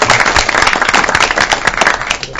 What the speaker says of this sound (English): I think you are owed a round of applause for all that you've done.